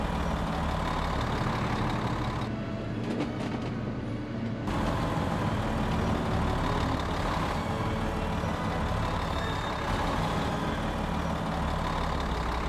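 A Class A motorhome on a Power Glide chassis backs into an RV site at a campground resort, its engine droning steadily and close throughout, with a brief quieter dip partway through and no talking.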